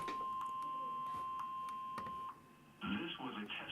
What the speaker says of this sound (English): The alarm tone just transmitted should have been heard on any operating receiver.